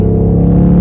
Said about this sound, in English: I apologize for the loud noise. No, I really don't. I really like this exhaust.